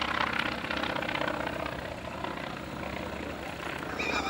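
An FM-2 Wildcat propeller fighter flies aerobatics at an air show, its engine droning steadily from a distance for a few seconds, with faint crowd chatter in the background.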